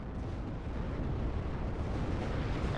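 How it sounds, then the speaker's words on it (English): Artillery explosions in a tank strategy video game, a dense continuous rumble of blasts rolling together, loud and sustained with no talk over it. "Artillery taking out some infantry in the back"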